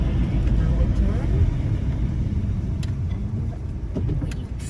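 Car driving through the Tuscan countryside, a steady low road and engine rumble from inside the cabin, with people talking over it.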